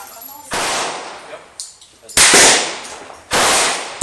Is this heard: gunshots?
yes